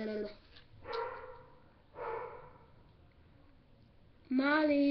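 A dog barks a few times at a distance, scattered single barks separated by pauses, followed by a closer voice speaking.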